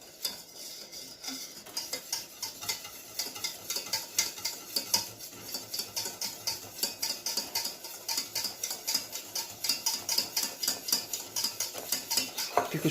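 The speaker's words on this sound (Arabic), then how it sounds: "نحركوه مزيان." Chocolate cake batter with oil is stirred in a bowl with a spoon, producing rapid, regular clicking and scraping strokes against the bowl that grow steadier and slightly louder, close up and without talking.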